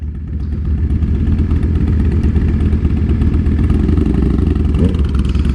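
A Harley-Davidson motorcycle engine runs loud and close with a steady, throaty mechanical rumble and faint clatter as the rider pulls off in a street race, with no clear rev peaks.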